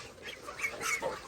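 Geese give several short, fairly faint honks in a farmyard where chickens and goslings are being fed, the calls spaced irregularly over a soft background.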